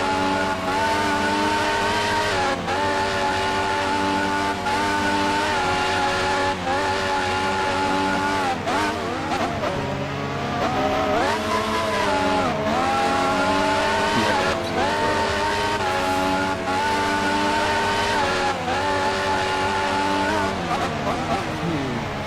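On-board view of a race car in the XRL F5 Division of a racing video game, its engine droning steadily with pitch sweeps through gear changes across the whole stretch, loud throughout and mixed with commentary talk.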